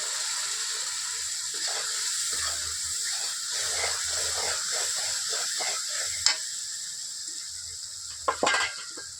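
Spiced chicken fries in a pan for a village-style chicken and potato curry, a steady close sizzle and hiss under occasional scraping stir strokes, with a couple of sharper clatters near the end.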